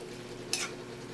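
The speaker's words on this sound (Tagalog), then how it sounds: "Haluin natin." Sautéed bottle gourd (upo) stirred in a pan, a single quick scrape of utensil against the pan over a faint steady sizzle, brief and close.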